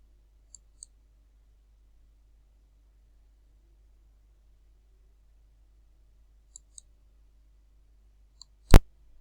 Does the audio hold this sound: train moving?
no